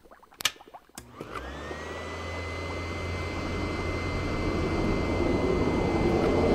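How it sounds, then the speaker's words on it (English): A high-density, high-intensity vacuum cleaner in an audio drama, a few knocks and a click before the motor spins up and settles into a loud, steady roar that grows slightly stronger to the end. "I want you to stand directly in front of my high-density, high-intensity vacuum cleaner."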